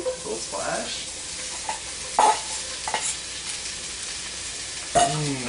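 Diced, lightly salted sweet potatoes sizzle in a hot skillet, with a steady frying hiss and a few sharper spits and stirring scrapes close by.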